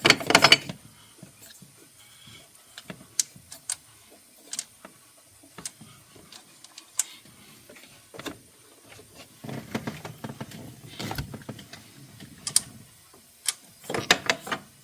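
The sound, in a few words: ratchet tightening strut bar bolts on 2016 BMW X5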